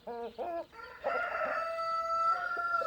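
Brahma hens cluck and squawk close by, followed by a long drawn-out crow from a Brahma rooster.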